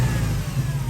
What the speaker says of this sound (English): Do a baby revs.